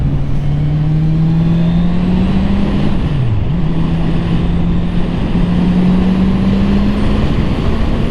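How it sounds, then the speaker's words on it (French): A Honda CB650R motorcycle in its A2-licence version runs under way with a steady, continuous engine drone whose pitch holds level, dips briefly near the middle, then settles again, with no talk over it. "En tout cas la sonorité du moteur est vraiment sympa."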